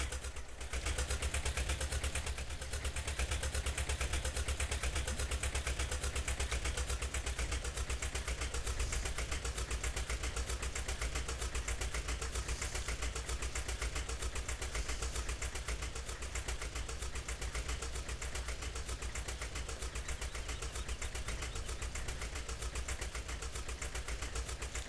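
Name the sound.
tractor engine driving in Farming Simulator 17 video game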